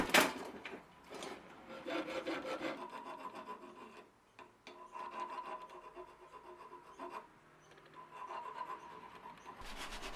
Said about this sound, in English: And a little bit of filing.